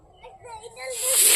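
Fish dropped into hot oil in a heated kadai for a Bengali curry, a sudden loud hiss swelling into a bright, sustained sizzle, preceded by a brief moment of softer talk.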